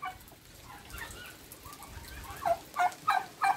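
Older turkeys in a pen gobble, starting as soft, scattered calls and building into four loud, close bursts of rapid gobbling at the end.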